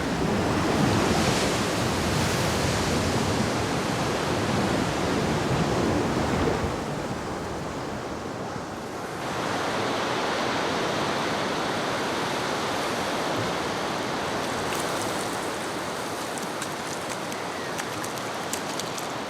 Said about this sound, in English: For the squalls that whip up the sea as if urging the waves to play even louder.